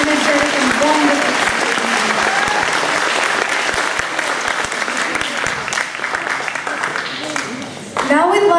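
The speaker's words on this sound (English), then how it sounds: "can you please give another big round of applause for this energetic and wonderful" A large audience at a Vedanta Centre event applauds a speaker, a full, even round of clapping that holds steady and then tapers off near the end.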